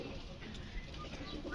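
Ghiya chandan pigeons cooing in a pigeon sale enclosure, soft low coos that are faint and continuous over a quiet background.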